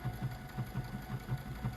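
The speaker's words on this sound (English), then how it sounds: "I am sewing crooked here" A sewing machine stitches steadily nearby, a quick regular mechanical thumping rhythm with a low motor hum, moderately loud and without speech.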